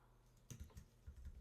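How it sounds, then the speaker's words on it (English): Quick, soft keystrokes on a computer keyboard, a short irregular burst of several taps close up in a quiet room. "Let me just type that correctly."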